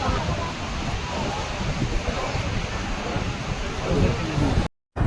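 Fast-flowing Saraswati river rushing near its vanishing point, a steady broadband roar of water that stays loud and continuous, broken only by a brief dropout near the end.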